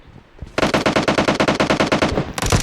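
Rapid automatic gunfire in PUBG as a player shoots an enemy: a loud, close burst of about fifteen evenly spaced shots over roughly a second and a half, followed by a brief pause and another shot.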